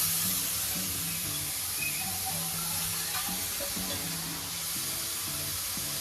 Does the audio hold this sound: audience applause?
no